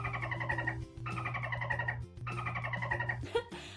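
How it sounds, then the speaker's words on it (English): Cartoon dolphin chatter like the kind dolphin toys make, rapid bursts of high trilling clicks and squeaks repeated in three or four phrases over a low steady hum, fairly quiet and with no talking. "That sound, and the sound dolphin toys make, was actually created by this guy named Mel Blanc"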